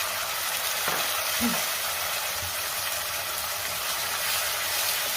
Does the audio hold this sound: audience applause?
no